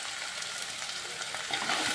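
Sliced onions frying in a pan with salt for kingfish mappas, a constant bright crackling sizzle, close and moderately quiet, with a slight swell near the end as they are stirred.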